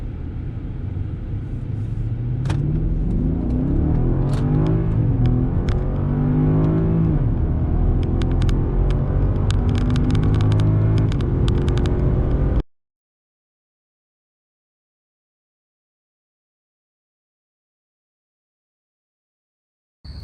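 A BMW X5M with an N63 twin-turbo V8 and upgraded intercoolers, driven on a closed course in Sport Plus mode with the AC running: a loud, steady engine drone rising and falling with revs for about twelve seconds, then abrupt silence.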